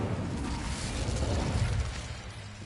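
The Incendio fire spell in the game Hogwarts Legacy is cast with a broad, crackling burst of flame. It roars steadily for a few seconds with a faint rattle and no voices.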